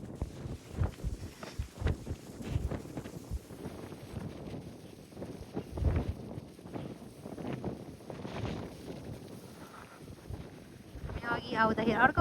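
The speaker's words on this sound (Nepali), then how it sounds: "हावाले सिरसिर सिरसिर हावा छ।" Strong, gusty wind on the Dragon's Back hiking trail buffets the microphone throughout, a continuous low rumble that swells and dips with the gusts.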